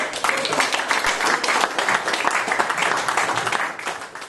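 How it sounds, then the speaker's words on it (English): An audience at a folk music performance gives a round of applause, steady dense clapping at moderate distance that continues for several seconds without pause. "let's have another fine round of applause, please"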